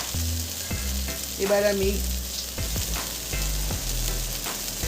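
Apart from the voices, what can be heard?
vegetables sizzling while being sautéed and stirred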